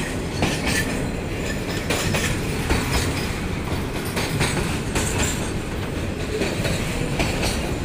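Train passing along a railway line in Dhaka city, a close, loud rumble with rhythmic clickety-clack of wheels over rail joints and occasional squeal, continuous throughout.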